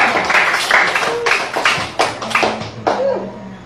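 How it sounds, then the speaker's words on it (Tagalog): Scattered claps from a small church congregation, several uneven bursts of hand clapping nearby, mixed with talking voices. "Salamat sa mga pumalakpak ng malakas."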